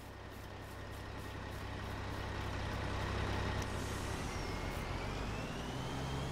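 A truck in Farming Simulator 22 rumbles along with a steady low engine drone and road noise, growing slightly louder midway, with no talk.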